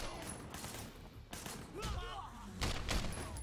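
Gunshots in the video game Sleeping Dogs fire in quick sharp bursts with a few heavier thuds, fairly loud, while people talk over the shooting.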